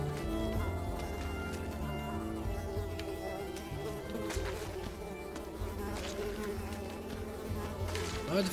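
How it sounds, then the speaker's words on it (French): Insects buzz loudly and continuously in the video game Unravel, several overlapping droning whines that rise and fall in pitch close by, with no speech over them. "Oh les moustiques ils m'ont cassé la tête."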